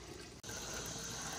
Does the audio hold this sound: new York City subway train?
no